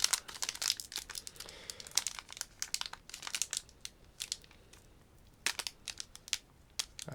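Crinkly foil wrapping of a Lord of the Rings collector booster pack being torn and crumpled open by hand, a close, continuous run of sharp crackles and rustles with bursts of louder tearing.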